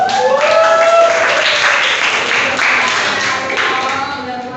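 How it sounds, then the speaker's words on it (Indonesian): A seventh-grade class claps together in a classroom quiz session, loud and sustained, with young voices calling out over the clapping as it gradually eases. "Mana tepuk tangannya 75?"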